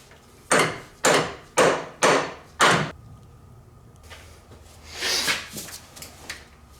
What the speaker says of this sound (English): stick it on there and hammer it into place